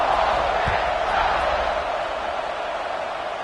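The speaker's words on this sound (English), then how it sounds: "this crowd is buzzing after that last score" A football stadium crowd buzzes after a score, making a broad, continuous roar that stays steady and fairly loud throughout while a commentator talks over it.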